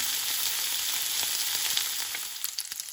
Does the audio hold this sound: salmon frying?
yes